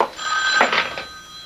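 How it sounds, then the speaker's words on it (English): A telephone rings indoors in a radio mystery drama, a bright electronic bell tone with steady harmonic partials and a couple of pulsing bursts, fairly close and heard alone without talk. "The phone."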